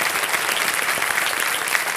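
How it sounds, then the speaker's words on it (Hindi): A studio audience on the Hindi quiz show Kaun Banega Crorepati breaks into steady, dense applause, a sustained burst of clapping filling the room. "तालियां बज जाए इनके"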